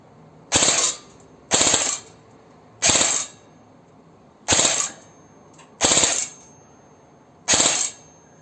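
A Cyma electric M16 airsoft gun fires outdoors at a 16-yard target, six short, sharp bursts spaced about a second apart, each a crisp mechanical rattle against quiet surroundings.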